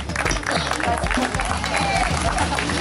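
An audience applauds a vintage car presented at an auction or showing, steady dense clapping mixed with crowd murmur and a voice talking throughout.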